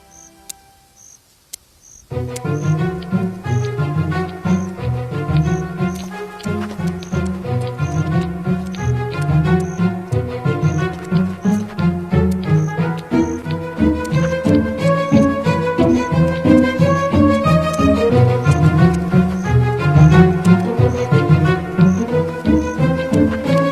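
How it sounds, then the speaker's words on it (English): A grasshopper on the Inner Mongolia grassland stridulates by rubbing its body parts together, making a steady, rhythmic ticking and buzzing chirp. It starts after a moment of near silence and then runs continuously and fairly loud, with no voices. "This is the grasshopper that's been flying around making that characteristic"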